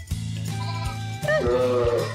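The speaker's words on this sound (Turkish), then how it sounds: "Her kuzunun anaları yanında." Ewes and lambs in a mountain house barn in Yenişarbademli, Isparta, bleat close by in several overlapping calls, a long wavering cry followed by higher, shorter ones.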